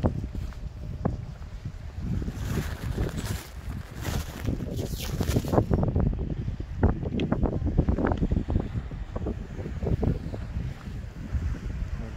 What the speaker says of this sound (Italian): c'è praticamente la tempesta di vento